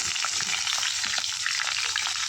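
Meat added to browned onions and frying hard in a pan, a dense, continuous close-up sizzle with little crackles and no talking.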